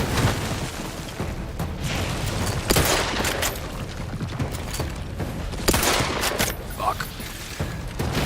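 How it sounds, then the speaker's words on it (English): Heavy gunfire in the sci-fi shooter game The Outer Worlds: a dense, continuous fusillade with repeated sharp bursts and booms throughout, loud and close, with a voice talking over it. "I am taking heavy fucking fire."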